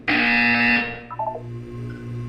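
A loud electronic buzzer in the video game Portal 2 blares for about a second, then cuts off, leaving a low steady hum with a few faint blips.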